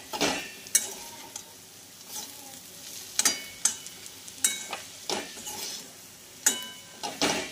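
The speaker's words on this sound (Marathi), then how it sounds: "याला 2 ते 3 मिनिटं असं छानपैकी फ्राय करून घ्यायचं आहे आपल्याला" Salted bitter gourd pieces fry in a pan with a steady soft sizzle, broken every second or so by sharp scrapes and clinks of a spatula stirring them, close up and with no speech.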